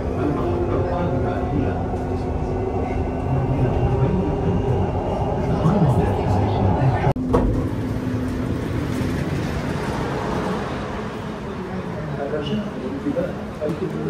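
Steady low rumble and hum of a driverless metro train running, heard from the front, with a continuous rolling drone and a brief clatter midway, while people talk faintly nearby.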